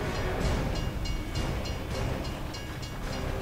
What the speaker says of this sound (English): Train coming the other way.